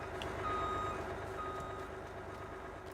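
A truck reversing in Farming Simulator 19 gives steady, evenly spaced backup beeps over a low engine rumble. The beeping is close and clear, with no talking.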